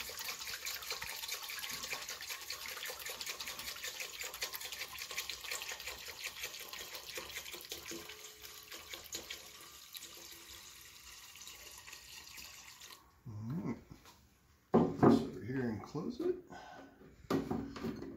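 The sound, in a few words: container being filled with liquid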